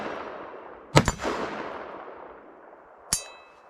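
A Foxtrot Mike .223 Wylde rifle fires green tip rounds outdoors at a range, two sharp, loud cracks about two seconds apart, each followed by a ringing, fading echo.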